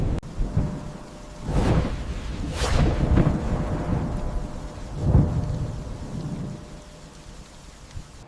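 Thunder rolls and cracks through heavy rain at sea during a storm, with several loud booming bursts rising over a constant rain hiss.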